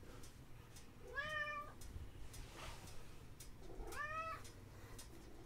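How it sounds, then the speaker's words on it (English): A cat gives two distinct, faint meows a few seconds apart against a quiet indoor background, with no talking. "who's a good kitty? You are. You are a good kitty."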